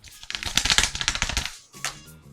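A bag is torn open and its contents, likely M&M candies, are dumped onto a counter, giving a rapid burst of crinkling and clattering followed by a brief second rattle, fairly close.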